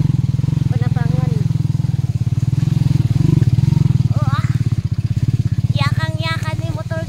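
Motorcycle riding along a muddy farm-to-market road, its engine a steady loud drone throughout with rhythmic pulsing, while people talk over it near the start and end.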